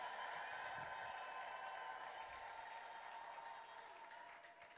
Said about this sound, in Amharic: እልልታ ለኢየሱስ፣ ጭብጨባ ለኢየሱስ።